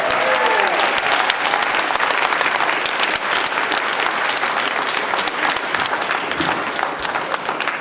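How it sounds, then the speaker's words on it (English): A ballroom audience gives a sustained round of applause at a high school student recognition event, loud, even clapping with crowd murmur running throughout for several seconds. "Let's give him a round of applause for that."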